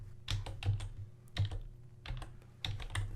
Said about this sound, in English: now type debug all capitals